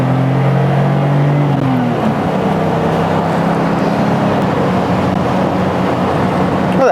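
Engine of a BMW E24 M6, an 80s M car, droning loudly while driving, with a tonal hum that shifts pitch early and then settles into a smooth, steady rumble.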